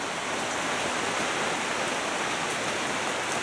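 Steady rain falls in an even, dense hiss of drops on a surface, constant and unbroken throughout, with no voices.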